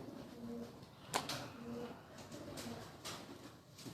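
Teddy pigeons cooing softly in short low repeated calls, faint and close, with a sharp click and light background noise between the coos.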